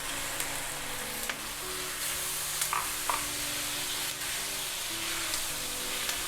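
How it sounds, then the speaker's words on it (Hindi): Steady sizzling of tomatoes frying in a pan, with occasional stirring clicks and scrapes over a low background hum; no one speaks. "अब इसमें हम टमाटर डाल दें।"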